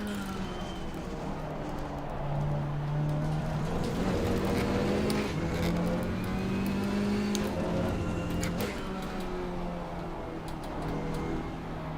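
A KTM X-Bow GT4 race car engine in Assetto Corsa Competizione revs and shifts at the Barcelona circuit, its pitch climbing and dropping through the gears, loud and continuous close up.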